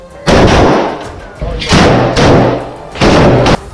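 Heavy bursts of gunfire in separate volleys during fighting in Khan Younis, Gaza, three or four loud stretches with short pauses between, close and harsh.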